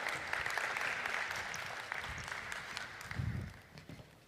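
Audience at a pitch competition in a large conference hall applauding, a moderate, steady patter of clapping that thins out and fades over a few seconds.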